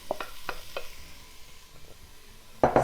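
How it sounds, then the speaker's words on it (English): Onions, jalapeno and garlic sauté in an Instant Pot, a few light stirring clacks over a soft sizzle, ending in a louder burst of scraping and frying close by. "saute these for about 5 to 7 minutes until the onions have softened"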